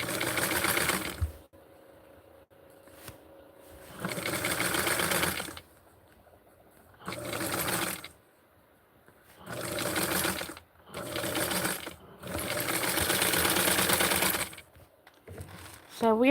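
A sewing machine hems vintage 1960s barkcloth of medium thickness in loud stitching bursts of a second or two, separated by quiet pauses, with a short rising whir at the very end.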